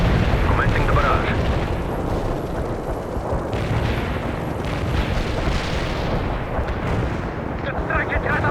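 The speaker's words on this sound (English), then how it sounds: "Heavy fire support here. Got any coordinates? Commencing the barrage." An artillery barrage in the video game World in Conflict rolls on as a dense, continuous rumble of overlapping booms and blasts, loud and unbroken for the whole stretch.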